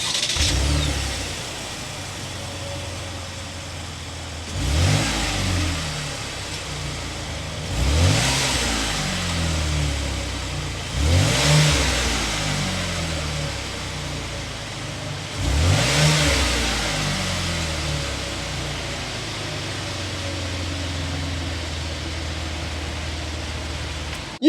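A 2023 Chevrolet Blazer RS with a 3.6-liter V6 settles into an idle, then its exhaust rises in four distinct revs spaced a few seconds apart, each swelling and easing back to a steady rumble.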